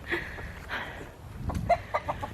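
Chickens cluck in short bursts near a farm coop in the evening, several hens calling at moderate loudness with scattered quicker clucks toward the end and no talking.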